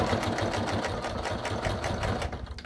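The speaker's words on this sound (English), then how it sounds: "Going to top stitch this right here first" A sewing machine top stitches fabric, running close up in a fast, steady, evenly pulsing chatter that continues through the whole stretch without a break.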